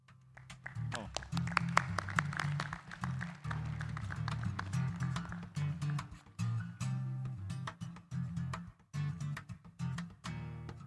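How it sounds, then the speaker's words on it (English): Applause from a conference audience honoring prize winners swells in bursts of dense clapping, fading and rising again for several seconds, with a voice talking over parts of it. "A round of applause for our lucky winners."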